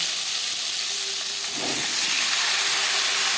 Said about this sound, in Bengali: পাঁচফোড়ন তেজপাতা ভেজে নেওয়ার পর দিয়ে দেবো টুকরো করে কেটে রাখা আলু